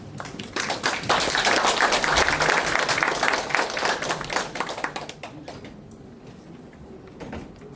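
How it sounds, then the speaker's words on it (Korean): An audience claps to welcome a speaker at a lecture, a dense burst of applause that swells, holds for several seconds, then thins out to a few scattered claps. "우리 박수로 환영하시겠습니다"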